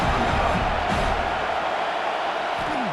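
Broad, steady stadium crowd roar in a College Football 26 sim of Ole Miss vs. Georgia on PS5, building for a fourth-down stop; a continuous loud wash of cheering with no clear breaks.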